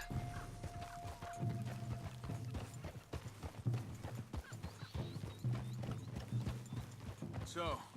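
Horse hooves clip-clop at a steady walking pace in Red Dead Redemption 2, moderately close and repeated throughout, with a brief whinny near the end and low game ambience underneath.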